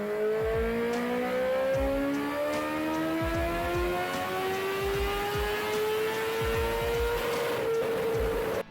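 A Bimota BB3 motorcycle engine revs and climbs through its gears, a loud steady howl rising in pitch with brief dips at each shift, recorded close with no talking.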